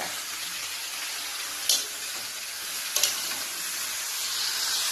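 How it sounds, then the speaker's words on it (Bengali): Mixed vegetables cook in a pan with a soft, even sizzle and hiss, broken by two brief clinks or scrapes, quiet and steady with nobody speaking. "তো আমি এখন রান্না করছি।"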